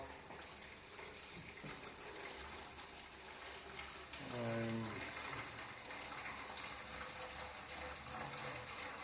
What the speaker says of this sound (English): And open this up to drain it. I'm just draining it now.